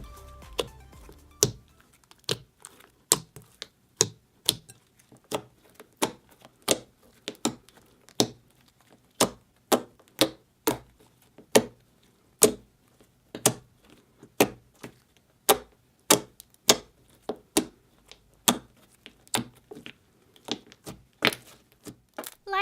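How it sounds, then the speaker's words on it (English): Clicky, jiggly slime squished and kneaded by hand, giving a steady run of sharp crisp clicks and pops spaced about half a second to a second apart, close and clear against near silence, with no talk. "It was very, very clicky and jiggly"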